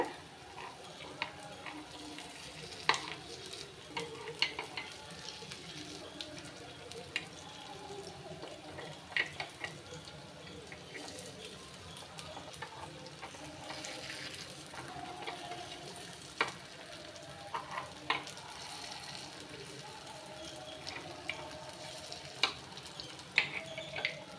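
Kuzhi paniyaram batter frying in a pan with ripe banana, a steady soft sizzle with small crackles and pops throughout, close and moderately quiet, no talking.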